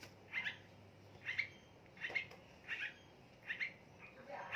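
Straw-headed bulbul chicks, three pairs of young birds, give repeated short squawking calls in an evenly spaced series, fairly faint, over a steady low background hum.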